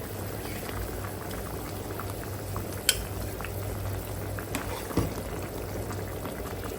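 Mustard hilsa curry with potato and eggplant simmers in a pot, with a steady bubbling, sizzling hiss, a couple of small clinks and splashes, close and alone.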